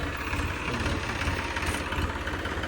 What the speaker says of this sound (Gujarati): અત્યારે તો આવ્યું ટ્રેક્ટર હજી